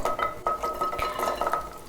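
Oil sizzles steadily as shallots and garlic sauté in a pan, with a spoon scraping and stirring in soft, irregular strokes close by.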